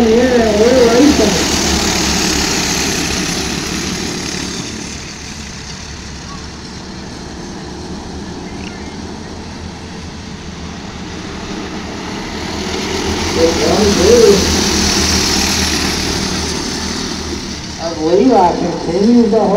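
Junior Champ karts race around a speedway oval, a continuous buzzing drone of small engines that swells and fades as the pack passes, under steady announcer commentary.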